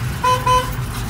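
Car horn on a 1969 Chevrolet Camaro X44 coupe, two short loud toots in quick succession over the low rumble of the idling engine.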